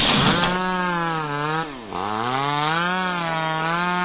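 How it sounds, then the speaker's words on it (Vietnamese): Chainsaw in the horror video game Mad Father, a loud, close engine whine that holds a steady pitch, then dips and revs back up before running on continuously. "có tiếng máy cưa"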